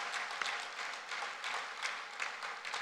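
Church congregation applause, a steady wash of many hands clapping at a moderate distance, fairly faint and continuous.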